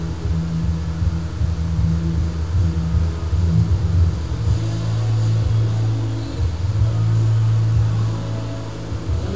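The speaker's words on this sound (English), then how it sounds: "Drivers, start your engines." Several race car engines rumble together at the start of a motorsport event, a dense low droning growl with rising and falling revs that holds steady throughout, loud and continuous with no speech.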